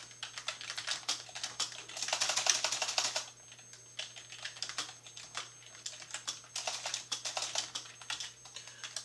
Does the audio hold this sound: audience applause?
no